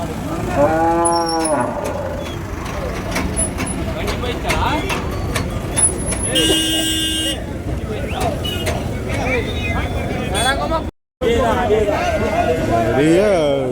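Cattle moo repeatedly at a busy cattle market in Vaniyambadi, India, some calls close and long, with people talking and vehicle noise in the background.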